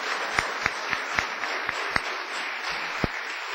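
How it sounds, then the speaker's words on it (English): Applause for Councilor Brianna Lungo-Kern at a Medford City Council meeting, a modest round of clapping in a council chamber with a few sharp, distinct claps standing out above the steady patter for a few seconds. "she deserves a round of applause for it."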